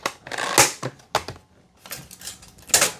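A Fanttik Fold V10 Apex car vacuum being folded up: a quick series of sharp plastic clicks and snaps, close and distinct, in two short clusters separated by a brief pause.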